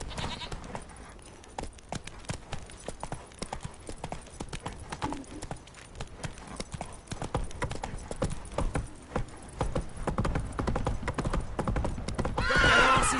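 Hooves of the horse Roach clip-clop at a gallop in a video game, with a whinnying neigh rising near the end over a busy, continuous game soundscape.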